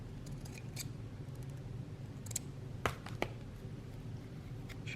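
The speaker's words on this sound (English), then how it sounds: "Let's trim that a little." Scissors trim a length of ribbon for an Alice in Wonderland folio junk journal, a few faint, sparse snips and clicks over a quiet hiss, no talking.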